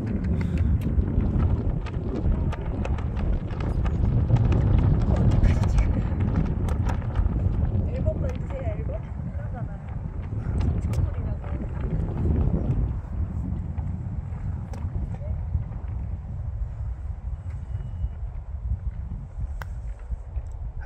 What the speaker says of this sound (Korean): 와, 다 바람 부네.